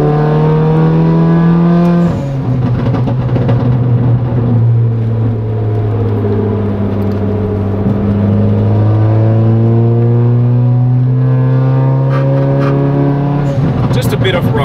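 A lowered wide-body Mercedes CLA 45 AMG drives scenic country roads, its engine droning loud and close, the pitch falling and rising through gear changes, with voices over it.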